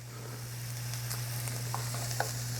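Finely diced onions and sliced mushrooms sizzle steadily in a pan in a kitchen, a soft continuous hiss with occasional small pops over a low steady hum, no voices.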